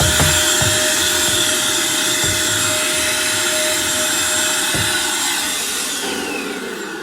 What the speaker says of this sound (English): I have some paper here in the corner and I can just get this with the